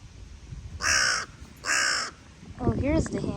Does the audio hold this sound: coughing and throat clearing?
no